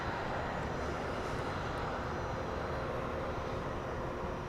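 A jet airplane taxiing at Dallas Love Field airport on an early morning, giving a steady, unbroken engine roar with a broad rushing hiss that holds constant throughout, with no voices.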